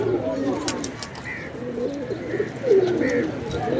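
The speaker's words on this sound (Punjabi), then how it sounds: "ਉਹ ਫੈਸਲਾਬਾਦ ਵਾਲਾ ਕਬੂਤਰ ਬੜਾ ਅੱਛਾ ਫਿੜ ਕੇ ਬੈਠਾ ਹੈ" A pigeon coos from a rooftop loft, several soft throaty coos spaced across the moment, with faint chirps and background noise around it.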